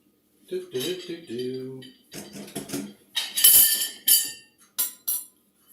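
Bowls, dishes and cutlery clink and clatter close by in a home kitchen as a bowl is grabbed, with several sharp bright knocks and rattles in quick bursts.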